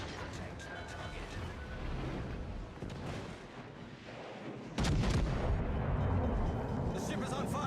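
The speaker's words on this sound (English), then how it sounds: "The ship is on fire." Explosions and fire from a ship being hit in a naval video game, a dense rumbling barrage of booms that swells louder halfway through and keeps crashing.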